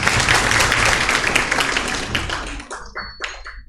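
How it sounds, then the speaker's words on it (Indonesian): Audience applause swells for the next speaker at a seminar session, a dense loud wash of clapping that thins out toward the end into a few scattered claps. "Silakan kasih sekali lagi aplaus buat Pak Tan Ijaz."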